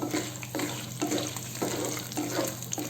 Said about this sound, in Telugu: ఎండుమిర్చి 2 వేసేద్దాము